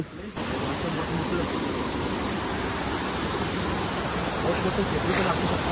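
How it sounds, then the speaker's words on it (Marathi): A big waterfall at a hidden outdoor spot pours with a loud, continuous roar of rushing water. The dense, close noise holds steady throughout. "This is a big waterfall."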